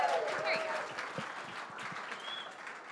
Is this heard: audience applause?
yes